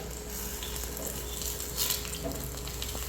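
Banana fritters (pazhampori) fry in hot oil with a steady, close, continuous sizzle that runs the whole time with no talk.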